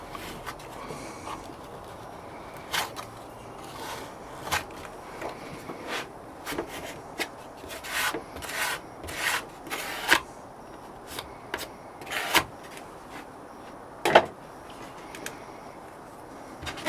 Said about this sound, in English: We compound this down again, and then we scrape it off. Right, let's give it a scrape.